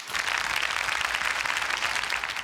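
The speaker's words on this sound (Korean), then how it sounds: "큰 박수 부탁드립니다." A lecture audience gives steady applause after a special talk on the fourth industrial revolution and labor, a brief even wash of many hands clapping at a moderate distance.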